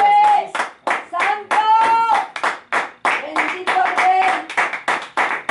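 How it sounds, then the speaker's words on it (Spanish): A church congregation claps in a quick, steady rhythm during worship, the hand claps close and loud beneath a voice calling out short phrases between them. "denle un aplauso al Señor, por favor"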